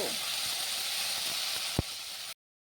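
Potato and mango pieces drop into a hot pan over fried onion, setting off a loud, steady sizzle and hiss that runs unbroken for a couple of seconds, with one sharp knock partway through.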